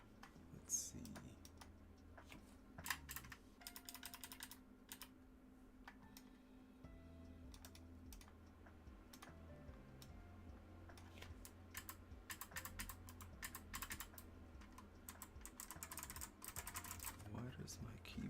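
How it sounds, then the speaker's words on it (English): Someone types on a computer keyboard that keeps cutting out, a near, steady stream of rapid key clicks in bursts with faint background hum and occasional low talk. "Why does my keyboard not want to work?"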